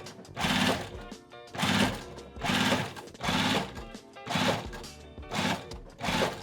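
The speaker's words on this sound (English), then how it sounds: "I'm also gonna put a top stitch in all the way down my bag, on the body of my bag side" A sewing machine top stitches along the side of a box bag body in six regular close bursts of rapid whirring stitching, each separated by brief pauses.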